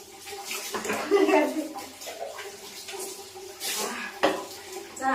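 Bathwater is mixed and poured, with uneven splashing and sloshing that swells and fades, a sharp splash toward the end, and a voice heard at times.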